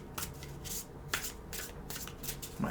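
Oracle cards shuffled by hand in a tarot reading, a quick series of soft papery riffles and rubs, close and quiet with no talk.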